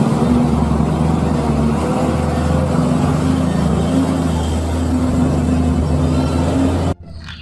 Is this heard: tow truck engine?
yes